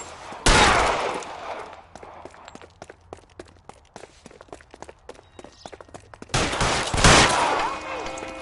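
A shootout in the video game L.A. Noire: two loud bursts of heavy gunfire open and close the stretch, with scattered sharp shots and clicks between them, some brief talk, and running footsteps.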